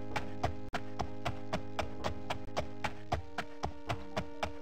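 Horse hooves clip-clop in a steady, even rhythm in The Elder Scrolls II: Daggerfall, about three strikes per second, clear and continuous over a humming game soundtrack, with no neighing.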